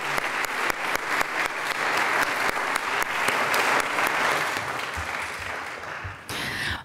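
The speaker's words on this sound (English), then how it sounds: "Let's all give him a round of applause." Steady, full applause from an Elmhurst College audience after a gift presentation, many hands clapping densely and evenly for several seconds before briefly dipping, then a short final swell.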